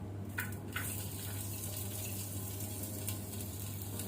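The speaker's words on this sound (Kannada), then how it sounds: "ಆನಂತರ ಆನಿಯನ್, ಈರುಳ್ಳಿ ಹಾಕೋಣ." Onions fry in ghee in a hot pot with a steady, close sizzle and faint occasional crackles throughout.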